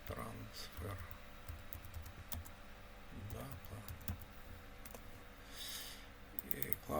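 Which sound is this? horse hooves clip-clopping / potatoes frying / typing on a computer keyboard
typing on a computer keyboard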